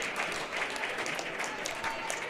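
Fans at a high school holiday basketball tournament game, Waltonville against Marissa, applaud their team in the gym, a steady moderate clapping with crowd noise and a commentator's voice over it.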